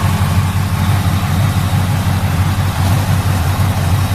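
A 1965 Impala Super Sport's 454 V8 idles steadily, with a deep, even low rumble close by and no other sounds over it.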